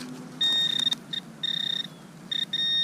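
A metal detector sounds a series of short electronic tones over a nickel, several quick bursts with brief gaps between them, clear and close against faint outdoor background.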